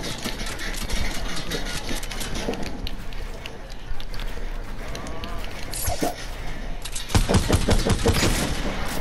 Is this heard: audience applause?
no